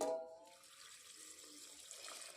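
A small amount of water is poured into a pressure cooker before boiling, a brief close splash and trickle that fades into a quiet running wash.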